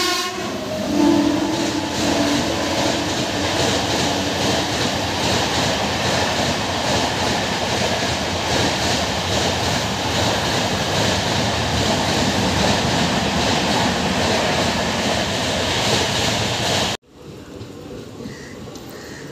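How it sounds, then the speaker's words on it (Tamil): A Chennai local train rumbles loudly and steadily into a station, wheels and carriages clattering, with a horn blast early on; the noise cuts off abruptly near the end. "நம்ம போகக்கூடிய ட்ரெயின் வந்துருச்சு."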